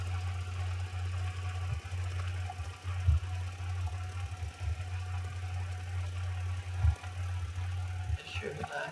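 Tractor engine in the farming game Professional Farmer 2014, a steady low droning hum that holds throughout with slight surges and a faint voice beneath.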